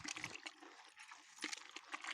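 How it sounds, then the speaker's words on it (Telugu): Water is poured over cow dung manure and mixed by hand, a soft, close trickle and sloshing in uneven bursts, quiet throughout. "ఇట్లా పెండల ఇట్లా నీళ్ళు పోసి బాగా కలుపుకోవాలి"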